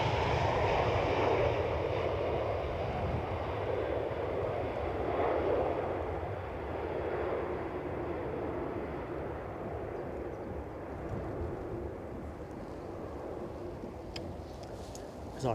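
A Transavia airliner arriving at Edinburgh rumbles as a fairly faint, steady engine roar that slowly fades toward the end.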